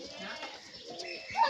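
Three Aboluk pigeons coo softly while feeding, a low murmuring call close by with other faint bird sounds and a voice in the background.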